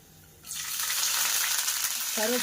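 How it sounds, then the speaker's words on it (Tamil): Fenugreek seeds and curry leaves hit hot oil and burst into a loud, crackling sizzle that holds steady, cooking for a South Indian fish curry. "ஏன்னா வெந்தயம் நல்லா வதங்கட்டும்"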